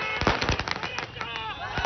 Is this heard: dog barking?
no